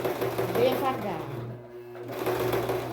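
A domestic sewing machine stitches slowly with a low mechanical hum that pauses briefly midway and then resumes, running under a woman's close speech.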